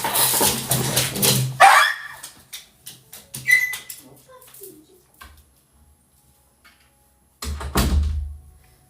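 A dog barks during a cat and dog fight: a harsh, loud burst of noise opens, then scattered short yelps and clicks trail off into near silence before another loud outburst near the end.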